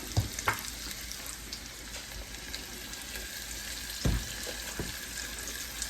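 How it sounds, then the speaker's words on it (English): Turkey wings frying and browning in a pan, giving a steady, close sizzle throughout with a couple of brief clatters from the pan or utensil. "we're just gonna get a little color on these, and we're gonna pull them out"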